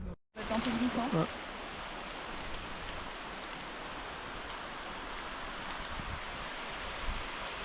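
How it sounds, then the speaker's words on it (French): Heavy rain falls steadily during a long, wet cycling stage through Normandy near the Roches d'Oëtre, a dense, continuous hiss filling the whole stretch after a brief muffled bump at the start. "Alors il pleut beaucoup"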